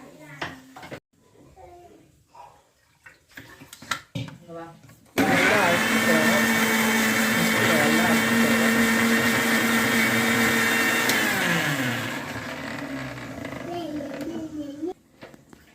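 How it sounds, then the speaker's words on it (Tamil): A voice speaks briefly, then a mixer grinder roars loudly for several seconds with a high whine before winding down, grinding chayote kootu paste, with talking resuming as it fades. "பாருங்க, நல்லா மிக்சியில் அரைச்சாச்சு"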